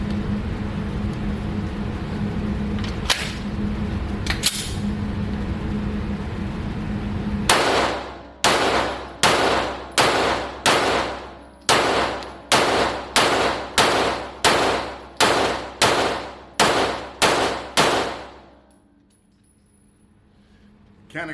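Canik Rival pistol fired outdoors, a rapid string of about thirteen loud sharp gunshots at a steady pace, each with a short ringing tail, followed by quiet, after a stretch of low background noise.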